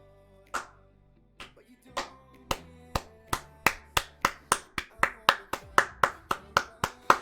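Sharp claps ring out, sparse at first and then settling into a steady run of evenly spaced, close, loud hand claps, with no talk over them.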